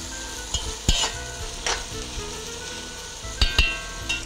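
Bell peppers of different colours frying in a pan, a soft continuous sizzle punctuated by several sharp clinks and knocks of the stirring utensil, with no talking.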